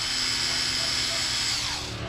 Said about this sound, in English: Now we're going to move on to the iBrid Nano, made by Rupes, and it's one of their newer polishers.